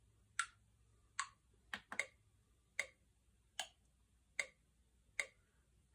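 Metronome clicks from a Yamaha MOXF8 synthesizer tick out alone in a steady row of about eight sharp, bright, evenly spaced hits over near silence.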